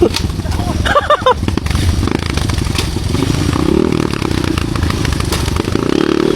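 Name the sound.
motorcycle engine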